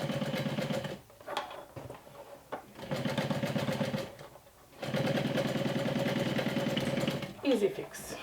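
A sewing machine stitches bias tape in the ditch of its fold, running in fast, rapid bursts with short pauses between runs, up close and loud.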